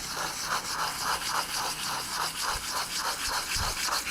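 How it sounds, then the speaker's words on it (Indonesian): A motorcycle brake pad is sanded by hand on sandpaper in circular strokes, a steady rhythmic scratchy rubbing that repeats about twice per second, close and alone. "itu kita ratakan menggunakan amplas. Dan cara mengamplasnya juga memutar ya, satu arah."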